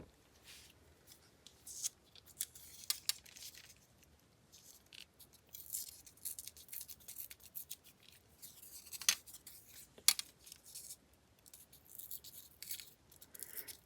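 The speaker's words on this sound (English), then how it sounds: "This old paper, old book page is tricky to rip without ripping everything to bits." Old book paper crinkles and rips in short dry bursts, close and fairly quiet, with irregular tearing and rustling over a quiet background and no talk.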